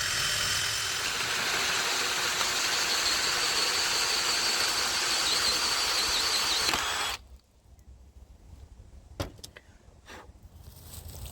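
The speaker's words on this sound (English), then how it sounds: "now that we got our center hole drilled out" A drill boring the center hole of a go-kart wheel: a loud, steady grinding drone for about seven seconds, then it cuts off, leaving a few quiet clanks and taps.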